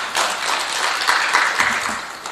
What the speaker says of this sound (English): May we give her another round of applause